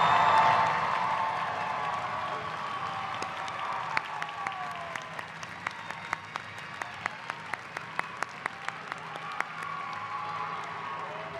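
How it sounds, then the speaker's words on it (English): At a fall commencement ceremony, a large audience gives a sustained round of applause for the new graduates, dense clapping that fades gradually, with a few sharp, regular knocks punctuating the later seconds. "let's give KSU's newest alumni one more round of applause."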